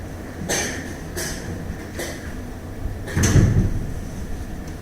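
A classroom door is pushed shut, giving a few knocks and rattles and then one heavier, louder thud near the end, heard nearby with no talking.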